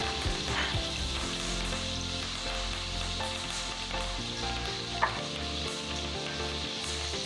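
Sprigs of fresh garden thyme hit a hot pan and sizzle steadily and loudly, a dense frying hiss with a low cooking rumble and one sharp pop near the end.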